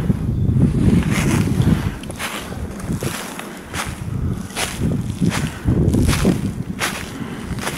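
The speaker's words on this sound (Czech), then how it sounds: "Se zvedá vítr." Gusting wind roars and surges through a forest of tall trees in waves, swelling and easing every second or so with a low rumbling buffet, no voices.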